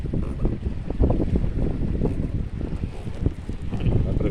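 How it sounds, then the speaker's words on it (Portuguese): Strong wind buffets a fishing boat on the water, loud gusty rumbling and microphone buffeting throughout, with faint water sloshing beneath. "que o vento hoje tá forte."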